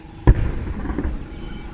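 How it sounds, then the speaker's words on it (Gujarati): A firecracker goes off with one sharp, loud, close bang. A short thudding rumble decays after it, with no talk over the blast. "ફટાક ફીટો"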